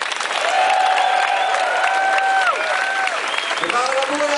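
A concert crowd at Tivoli Utrecht applauds and cheers to welcome a singer at a reunion concert, loud sustained clapping with a few whistles and shouts rising over it.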